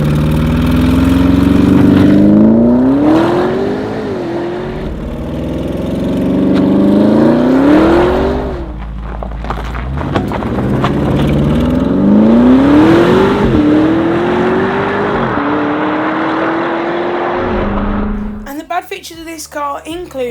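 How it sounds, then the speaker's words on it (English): Porsche Cayenne Turbo GT in launch mode, revving hard and accelerating through several rising gear pulls in repeated loud runs, each ending with a shift, before a brief quieter tail. "let's take another listen to this car in its launch mode and a few more accelerations"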